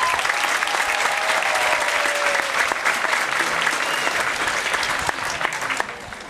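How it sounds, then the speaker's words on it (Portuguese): Audience applause for a school band at a 2011 Koteki event, a dense, steady wash of many clapping hands sustained throughout and easing slightly near the end. "uma grande salva de palmas!"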